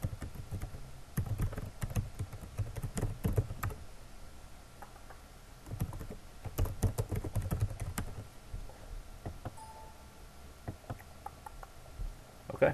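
A computer keyboard is used to type a web link into an ad submission form. Crisp, close keystrokes come in uneven clusters separated by short gaps, with no voices.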